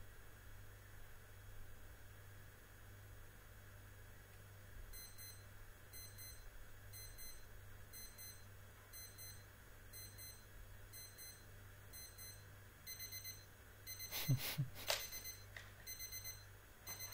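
A radio alarm clock going off around nine in the morning, a repeating series of faint electronic beeps sounding steadily over a low hum, with a brief louder clatter near the end.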